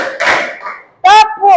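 A classroom of students claps hands on cue, a short burst of claps followed by a brief pause, with a teacher's voice calling instructions between them.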